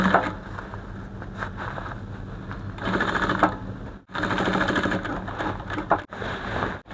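A sewing machine stitches a kimono collar in steady bursts of fast, buzzing needle strokes, close and fairly loud, with short pauses between runs.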